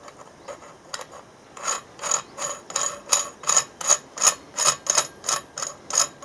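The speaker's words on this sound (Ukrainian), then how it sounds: "Потім беремо одну гайку, отут накручуємо." A nut being screwed onto a threaded part while building a smoke generator for a smoker, heard as a rapid series of rhythmic ratcheting clicks that grow louder and more regular, close up with no talking.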